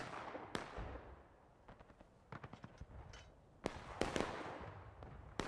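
Cannon fire in War of Rights, a Civil War-era battle: scattered sharp booms and cracks sound distant and faint, with irregular gaps between shots and smaller crackling pops in between.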